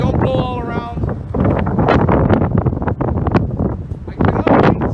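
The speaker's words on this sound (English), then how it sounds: "Very, very windy today." Strong wind outdoors at a pigeon loft buffets the microphone with loud, continuous rumbling gusts, and voices are partly heard beneath it.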